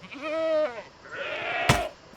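A Minecraft goat from the FTB Skies 2 modpack lets out a single wavering bleat, followed by a breathier second cry and a sharp click, close and alone without talk.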